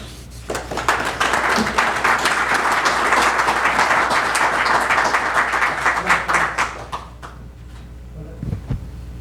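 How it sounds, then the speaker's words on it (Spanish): An event audience applauds a speaker, a full crowd clapping steadily for several seconds before thinning into scattered claps and fading, with a brief voice near the end. "demos un aplauso a Oliver"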